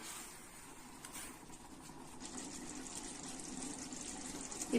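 Water pours steadily over rice in a container to soak it, a soft continuous splashing rush at low volume with no talking.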